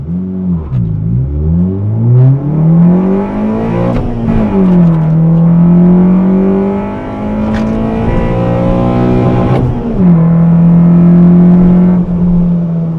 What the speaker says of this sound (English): So let's let our speedometer or our Solo DL zero out. Here we go. 8th mile.